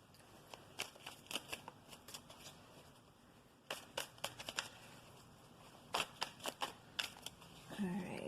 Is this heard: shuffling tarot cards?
yes